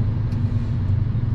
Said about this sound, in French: C'est une bagnole américaine, je sais pas si c'était pas une Chevrolet ou peut-être une Cadillac.